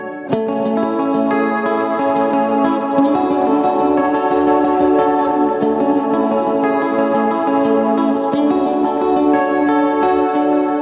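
A sustained strummed electric guitar chord rings out with heavy reverb and a shimmering chorus effect, loud and continuous.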